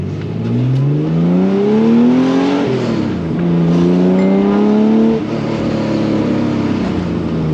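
A Porsche 911 (964) engine growls as it accelerates, its pitch climbing through a couple of gear changes, loud and close, with no one speaking.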